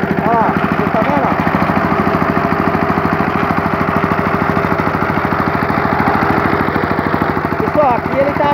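A Yanmar Tobata walking tractor with a slipping clutch runs close by in a loud, fast, even chugging that holds steady throughout, with brief voices in the background.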